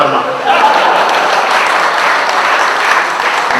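An audience at a Hindi poetry recital claps in steady, dense applause that fills the room, loud and continuous throughout.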